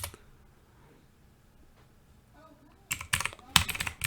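Numbers are tapped out on a computer keyboard, a cluster of rapid, close clicking keystrokes coming after a quiet stretch with only faint background noise.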